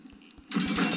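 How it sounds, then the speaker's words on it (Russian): A lever is pulled in a video game: a few quiet soft clicks, then a sudden louder rattling mechanical clatter of gears and ratchets that continues to the end. "наверное, еще раз дернуть на рычаг, да?"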